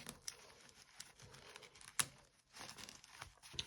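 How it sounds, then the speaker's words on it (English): Rapid papery riffling and snapping of a Magic: The Gathering deck being shuffled, several quick bursts up close with short pauses between. "just gonna get this shuffled up"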